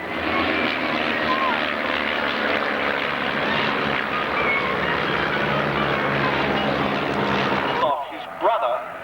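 An air-show formation led by a larger, faster Tornado jet roars past steadily and loudly for several seconds with a broad engine rumble, then the noise cuts off abruptly near the end, leaving a brief quieter moment.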